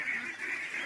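A single sustained nasal honking quack from a Pekin duck, close and steady for under a second.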